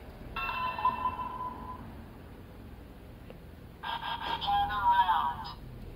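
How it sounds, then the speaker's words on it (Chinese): A Kamen Rider Geats DX Spider Phone toy plays its electronic letter-received tone, a bright melodic jingle in two bursts separated by a quiet gap, close and clear with a faint click between. "收到信件的声音"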